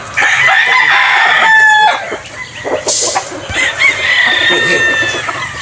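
Battle stag roosters crow loudly nearby, several drawn-out cock-a-doodle-doo calls overlapping with clucking from other fowl, against a busy farm background.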